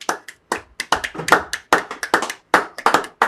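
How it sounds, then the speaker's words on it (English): A congregation at a Sabbath service claps hands in scattered bursts, sharp overlapping claps close by, loose and uneven rather than in steady rhythm, with short gaps between clusters. "Clap it up for the brother."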